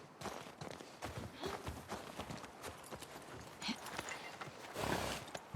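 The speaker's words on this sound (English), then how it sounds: "I saw the horses and almost panicked." Horses' hooves clop in steady, overlapping beats on hard ground in The Last of Us Part II, close and clear, with a louder scuffing burst near the end and no talking.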